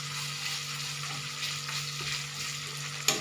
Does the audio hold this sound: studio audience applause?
no